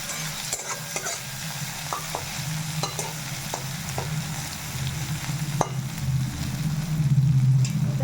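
Onions and chopped green chillies fry and are stirred in a pan for chilli chop, a steady close sizzle with scattered scraping clicks from stirring, growing slightly louder toward the end.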